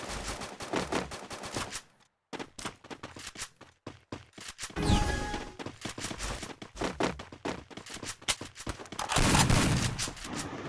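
Rapid gunfire in the mobile game Free Fire, a Clash Squad round, fills the clip: dense bursts of automatic shots with short pauses, and one louder sniper-rifle blast, all loud and close, with no talking.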